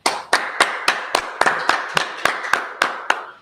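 A dozen sharp hand claps in a steady, even rhythm, close and loud, each a crisp isolated smack with no voices over them, during a Sabbath service.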